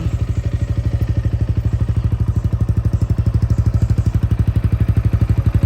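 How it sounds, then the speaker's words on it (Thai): A Yamaha XSR 155 motorcycle, a 2023 model with about 39,000 km on it, idles close by with a steady, even, rapid thumping pulse throughout. "มาสตาร์ทให้ฟังเสียงของเครื่องยนต์กันดีกว่าครับ"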